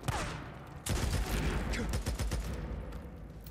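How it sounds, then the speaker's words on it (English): Shotgun fire in the Days Gone video game bursts out loud and close, with a blast followed by a dense stretch of rapid overlapping shots and rumbling echoes. "How do you miss a point-blank shotgun shot?"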